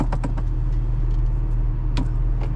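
A 2008 Porsche 997.1 911 Targa 4S with a manual gearbox and flat-six engine running steadily from inside the cabin, a low continuous rumble with a few faint clicks and rattles over it.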